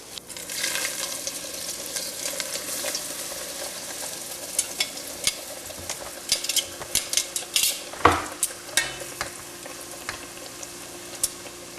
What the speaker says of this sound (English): we're going to pop in our pistolettes and just fry them until they're browned